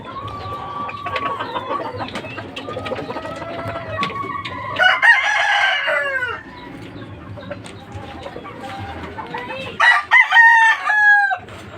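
Several hens cluck and squawk close by, with a rooster crowing loudly in bursts over a steady farmyard background.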